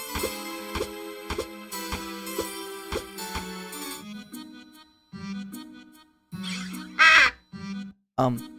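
Crow caws from the merchant crow character in the video game Timespinner, a few short harsh calls near the end following a stretch of tonal game music and chimes.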